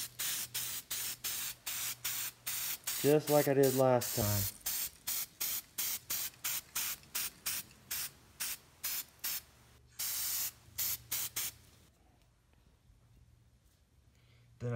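Rapid bursts of cheap spray paint from a can hissing onto crushed seashells laid out on a board, in a steady staccato rhythm close by, with someone speaking briefly midway before the spraying resumes and then stops.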